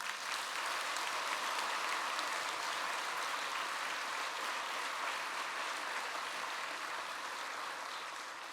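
A church congregation gives steady, dense applause that holds evenly and fades slightly toward the end, with no voices over it.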